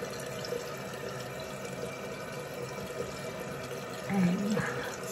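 Tap water runs steadily into a bathroom sink during a nighttime skincare routine as a face is rinsed, a soft continuous splashing that swells briefly louder near the end.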